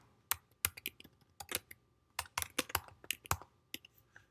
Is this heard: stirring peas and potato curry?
no